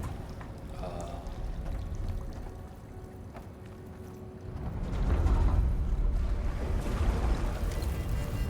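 Water pours and rushes through a vast pumping machine in Horizon Forbidden West, a steady broadband wash that swells louder midway and keeps roaring on, with low rumbling underneath.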